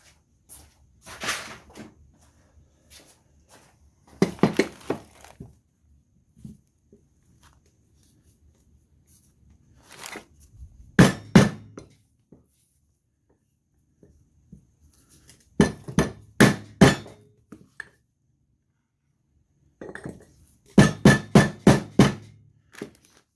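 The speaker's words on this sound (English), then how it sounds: "So I'm going to lightly tap it in with a socket." A socket lightly taps a front fork part into place on a 1977 Moto Guzzi V1000, giving close, sharp metallic clinks in short clustered bursts separated by quiet pauses.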